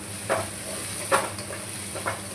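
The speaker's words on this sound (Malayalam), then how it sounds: "എണ്ണ ചൂടായി വരുമ്പോഴേക്ക് നമുക്ക് സവാള ഇട്ട് കൊടുക്കാം" Onions frying in hot oil with a little salt, a steady soft sizzle and hiss broken by three quick stirring scrapes spaced about a second apart.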